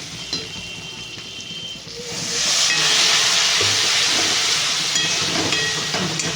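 Spice paste with tomato and sugar sizzles in a pan, a steady frying hiss that swells louder after the first two seconds and holds there, continuous and close, with no voices over it.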